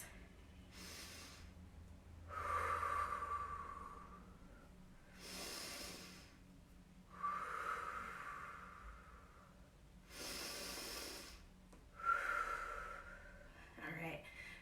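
Slow, deep yoga breaths during a held stretch, three long inhale-exhale cycles with soft airy rushes, close and fairly quiet, with faint low background hum.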